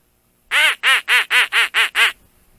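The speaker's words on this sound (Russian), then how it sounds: "Что-то одна кряковая утка мотается, другой вообще не видно." A mallard duck in flight gives seven loud, evenly spaced quacks in a quick series, close and clear against near silence.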